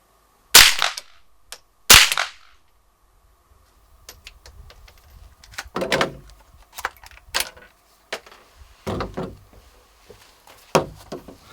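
Two sharp rifle shots fired at a target on a shooting range ring out near and loud, one after the other, followed by quieter scattered clicks and handling noises.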